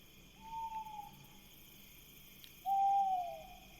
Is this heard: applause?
no